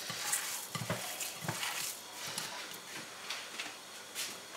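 Meatball mixture is mixed by hand in a bowl, giving soft, irregular squelching and patting sounds at close range, with no talking.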